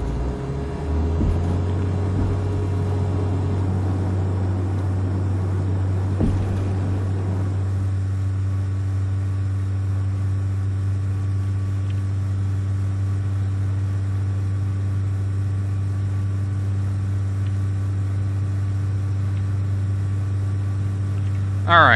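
Simulated light airplane engine at full power in the FSX flight simulator, a steady loud droning hum that holds constant throughout as the aircraft climbs out after touchdown, with a speaking voice over it.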